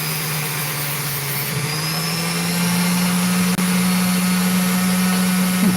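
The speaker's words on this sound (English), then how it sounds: "I'm just going to try and grind it out." Steady, continuous whine and hum of a power tool grinding an opal, holding an even pitch throughout with a slight rise partway, close and loud with no talking.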